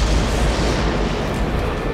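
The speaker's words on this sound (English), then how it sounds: "And we got an incoming grenade. So much for the grenade." A grenade explosion in Sniper Elite V2 rolls out as a loud, sustained low boom with a dense rumbling tail.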